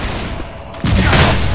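Gunfire in the video game Left 4 Dead: a quieter stretch, then a loud, sharp burst of rapid shots that keeps going to the end.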